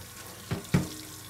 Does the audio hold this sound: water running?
yes